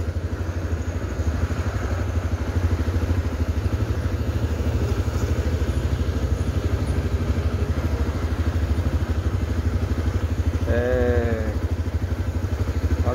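A Hornet motorcycle's engine drones steadily throughout at an even, close level while riding through Fortaleza, with a brief higher-pitched bleat-like sound near the end.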